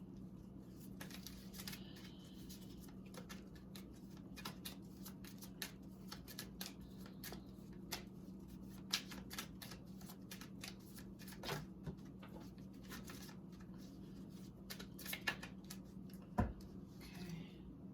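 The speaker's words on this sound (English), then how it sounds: "I'm gonna pull one more card for you." Tarot cards being shuffled and pulled from a deck at close range, with soft repeated riffling and sharp card snaps scattered over a quiet room hum, and no talking.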